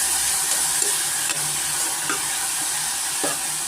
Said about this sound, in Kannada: ಸ್ವಲ್ಪ ಎಣ್ಣೆನಲ್ಲಿ ನಾವು ತರಕಾರಿನ ಸ್ವಲ್ಪ ಫ್ರೈ ಮಾಡ್ಕೊಳ್ಳೋಣ